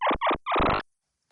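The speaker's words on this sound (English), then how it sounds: "the monkey call" Synthesized monkey call made with Python code: three loud, harmonic, hooting bursts, two short and one longer, rising in pitch, heard alone and followed by silence.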